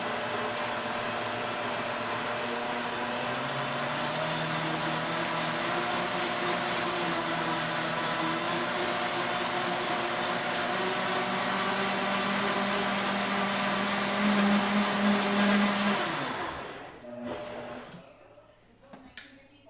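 A kitchen blender runs steadily for about sixteen seconds, emulsifying a homemade donair sauce with a constant whirring drone, then winds down and stops.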